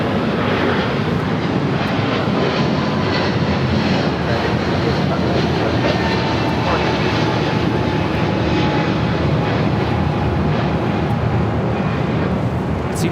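United Airlines jet taking off from Los Angeles for Newark, a loud, sustained engine roar with broad rumbling noise and a faint whining tone, holding strong and steady for the whole stretch.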